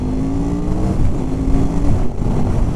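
A car engine is held under open throttle, a steady close drone with rough low rumble and slight pitch wavering over a few seconds, with no talk.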